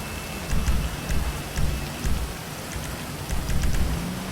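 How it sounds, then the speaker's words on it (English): Steady rain falls in GTA V, created through the mission creator's weather setting. It is a continuous hiss of rain on surfaces with soft low rumbles swelling and fading underneath, with no voices. "Also gonna stop that rain"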